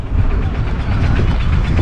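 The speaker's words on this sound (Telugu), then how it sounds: "ఇదే మనకి మచిలీపట్నము రైల్వే స్టేషన్ అనమాట" A low, steady rumble of a train on rails at Machilipatnam railway station fills the space, continuous and fairly loud with no voices.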